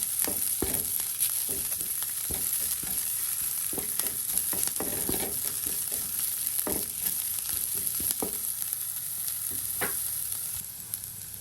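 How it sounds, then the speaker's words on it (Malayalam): Green chillies and chopped curry leaves sautéing in a pan for puttu, a steady close sizzle and crackle running throughout with occasional stirring scrapes, no talking. "ഇത് നന്നായിട്ടൊന്ന് വഴറ്റിയെടുക്കാം"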